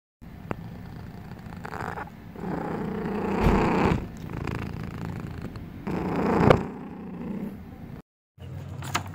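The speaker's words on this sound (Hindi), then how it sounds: "कैट्स जिस तरह से खुश होकर आवाज़ें निकालती हैं" A cat purrs close up in a continuous rumbling drone that swells and eases with each breath. It stops briefly near the end and then resumes.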